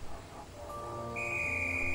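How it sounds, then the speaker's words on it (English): A steam locomotive whistle in a Thomas & Friends cartoon sounds, starting softly and swelling into a sustained, shrill tone over a low mechanical rumble. "Oh, that's the whistle."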